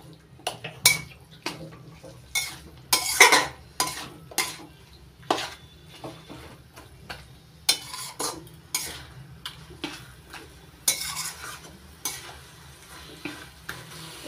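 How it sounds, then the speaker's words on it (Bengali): Spoon scraping and stirring mashed banana stem paste in a pan, repeated clattering strokes with a faint sizzle beneath, close by and with no talking. "থোর বাটা দিয়ে ভালো করে নাড়াচাড়া করে মিশিয়ে নিচ্ছি।"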